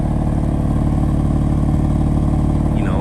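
BMW M4 convertible engine idling steadily with a deep, even exhaust burble, loud and close, carrying on without a break and rising slightly in pitch near the end.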